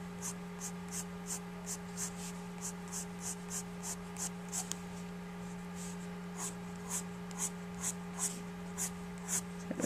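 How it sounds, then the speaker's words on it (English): Pencil drawing hair details on paper, a run of short, regular strokes repeating close up over a steady background hum, with no talking. "So you're going to draw on those individual shapes and then look for the highlights, erase them out"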